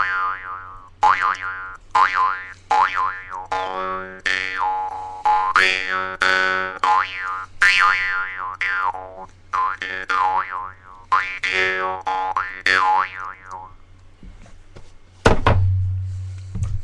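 A jaw harp played to mimic a bouncing rubber ball, with a rapid run of twangy plucks whose pitch swoops up and down, loud and close, ending in a few dull thumps near the finish.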